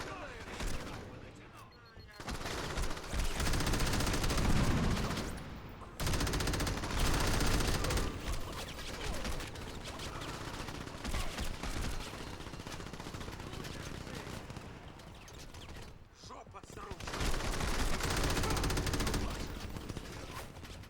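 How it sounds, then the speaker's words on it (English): Enemies in the video game Crackdown shoot at each other in dense, continuous bursts of rapid gunfire that run almost without pause, with only brief lulls, at moderate loudness. "they're just shooting at each other almost in the sort of weird like kill zone they've set up for us"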